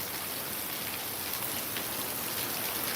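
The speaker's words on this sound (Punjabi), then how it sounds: "ਦੇਖੋ ਇਹ ਕਿੰਨਾ ਮੀਂਹ ਪੈ ਰਿਹਾ ਹੈ" Steady, dense downpour of heavy rain, a continuous hiss of drops hitting surfaces with no voices.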